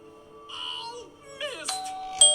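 An electronic doorbell chimes a short melodic tune, followed by sharp ringing tones, near and fairly loud, with a faint voice underneath.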